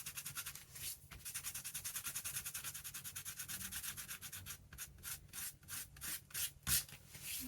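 Glue residue being rubbed off a handmade junk journal lapbook folio, a steady, close scratchy rubbing in quick repeated strokes, with short breaks and sharper strokes toward the end.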